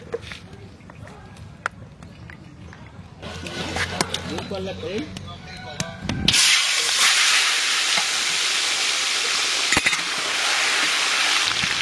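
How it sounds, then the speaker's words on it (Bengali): Fish frying in mustard oil for a large katla fish curry cooked outdoors in a village: after some clatter and talk, a sudden loud sizzle and hiss bursts up and continues steadily. "দিয়ে দেবো সর্ষের তেল মাছ ভাজার জন্য"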